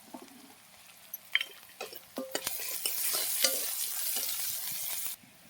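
Onions fry in a pan, starting with a few scattered clinks and scrapes, then breaking into a loud, steady sizzle that holds until it cuts off abruptly near the end.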